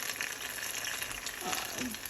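Steady crackling sizzle of banana lumpia frying in hot oil, continuous and fairly close, with a faint voice briefly underneath.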